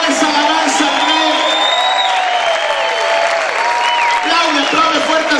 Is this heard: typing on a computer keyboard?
no